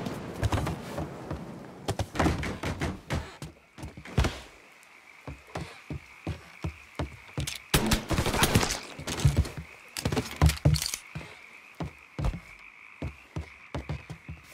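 Gunfire in Mafia III Definitive Edition: close, sharp shots crack out in irregular bursts and clusters throughout, loud against a low ambient background, with no talking.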